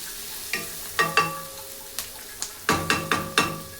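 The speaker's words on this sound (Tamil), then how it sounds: "மறுபடியும் கொஞ்சம் பட்டர் போட்டு வெங்காயம் நல்லா பெரிய வெங்காயம் 3 வெங்காயங்க" Three large onions going into butter in a pan for butter chicken, heard as a quiet low hiss broken by several sharp clanks and scrapes of a utensil, close, in a loose uneven rhythm with no voices.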